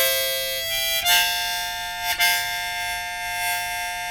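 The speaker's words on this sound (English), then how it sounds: "That's just the sound of the harmonica." A harmonica sounds several notes together as a sustained chord, restarted with a couple of breathy attacks, played alone and fairly close.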